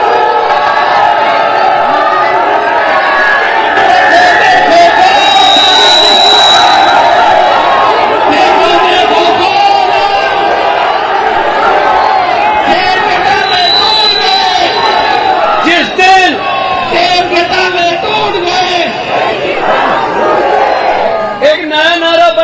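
A dense, loud crowd at a political roadshow in Maharauli, Delhi, shouts and cheers nonstop into a microphone, a roaring wall of voices with whoops and slogan-like cries throughout.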